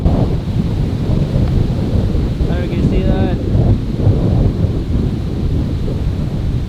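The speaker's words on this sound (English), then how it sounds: "Man, it's windy." Strong coastal wind ahead of a storm at a Philippine fishing village roars as a dense, loud rumble buffeting the microphone throughout, while a voice speaks briefly over it.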